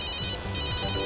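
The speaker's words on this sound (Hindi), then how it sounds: "देखो किसका फोन आया है।" A phone rings inside a car, an electronic ringtone trilling steadily with a brief dip, loud and close with no talk over it.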